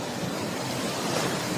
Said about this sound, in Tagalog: delikado pag lalapitan mo ito, sobrang lakas ng hangin.